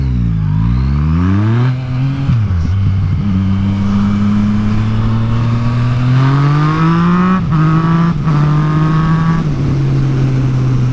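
A KTM Super Duke motorcycle engine roars loud and close while riding, rising and falling through gear changes with strong revving pulls and brief dips between shifts.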